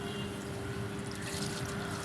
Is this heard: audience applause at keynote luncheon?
no